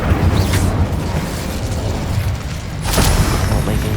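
Incendio fire spell cast in Hogwarts Legacy, a loud whooshing burst of flame over dense low rumbling game noise, with a second bright flare near the end.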